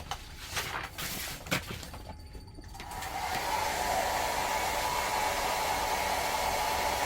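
After a few seconds of handling noises, a hair dryer switches on to heat a decal on a camper van, blowing with a steady, loud whirring hiss close by.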